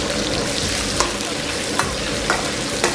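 Ginger, scallion, garlic and star anise stir-fried in oil in a wok, a steady close sizzle broken by a few sharp scrapes of the spatula.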